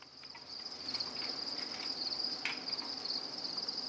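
Continuous high-pitched chirping from crickets on a cricket farm forms a steady insect drone, dense and fairly loud, with no voices.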